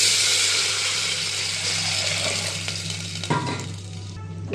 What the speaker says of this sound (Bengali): এবার ডাল আর জলটা অ্যাড করলাম।